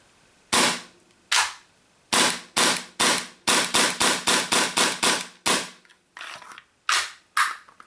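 A rapid series of sharp, snappy shots from a Tokyo Marui FN 5-7 gas blowback airsoft pistol, about a dozen and a half cracks, some in quick bursts and others spaced apart, loud and close.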